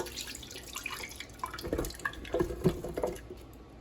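Milk poured into a Ninja blender jar, a soft, uneven liquid splash and trickle with a few sharper drips and sloshes, close up and fairly quiet, no talking.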